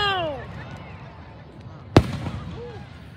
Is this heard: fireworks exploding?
yes